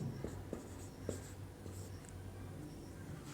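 A pen scratching across paper while a Class 10 maths problem is worked out. Light strokes and taps come at close range in an uneven rhythm over faint room noise, with no speech.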